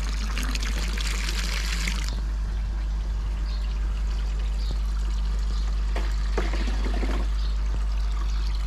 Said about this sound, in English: I'm going to pour it in.